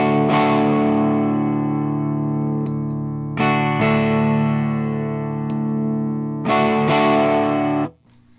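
Electric guitar through a Kruz Pedals dub distortion pedal set at unity gain, three sustained strummed chords with a mild, warm crunch and light compression, each ringing out before the next, alone with no talk.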